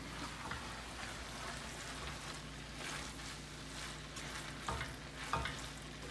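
A seasoned stuffed pepper filling with onion powder and garlic powder is stirred and blended in a hot pan, with continuous sizzling and close scraping strokes of the spoon throughout.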